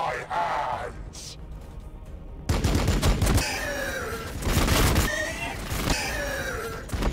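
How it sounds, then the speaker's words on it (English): A bolt storm gauntlet in the video game Warhammer 40,000 fires rapid, heavy bursts of gunfire at close range, with shouted game voices and groans mixed in over a quieter opening stretch. "Hail of gunfire."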